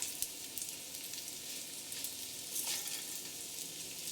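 Potatoes with cumin seeds and whole spices sizzle steadily in a pan as they are mixed together, a soft, even hiss with only faint stirring, fairly quiet throughout.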